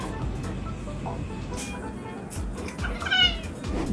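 A cat meows a few times, short faint cries over a steady low background hum, one slightly louder meow near the end, with no clear talk.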